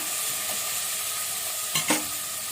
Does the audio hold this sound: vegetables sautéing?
yes